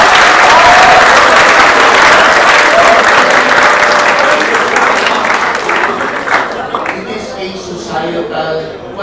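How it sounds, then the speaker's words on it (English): Loud applause from a large audience fills the room at first, then thins and fades over several seconds as scattered claps and a voice emerge near the end. "Can you applaud her?"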